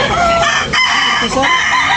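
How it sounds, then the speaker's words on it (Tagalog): Chickens and roosters at a Batangas poultry market crow and cluck close by, loud and continuous over a noisy crowd. "Manok mga kabakard"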